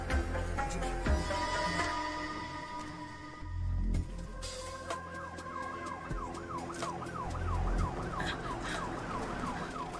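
An ambulance siren in a Hindi short film starts partway through and wails in a fast rising-and-falling cycle, fairly close, over rumbling vehicle and street noise.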